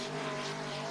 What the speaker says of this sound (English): 13th car to hit the racetrack now